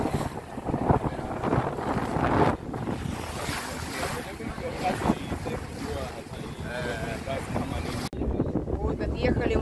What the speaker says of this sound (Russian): Ветер просто сильнейший,